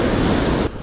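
Small waves washing onto a sandy beach in Baler, Aurora, a steady close rush of surf and wind noise that cuts off abruptly near the end.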